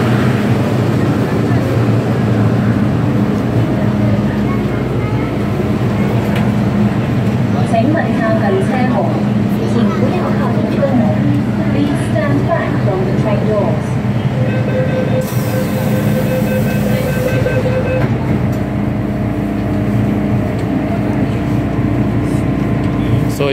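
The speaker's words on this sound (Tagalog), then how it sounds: "So ayan, sasakay tayo ngayon ng train hanggang doon sa dulo." Inside a Hong Kong MTR train while riding, the carriage gives a steady loud rumble with rail clatter and a brief electronic chime tone, while people talk throughout.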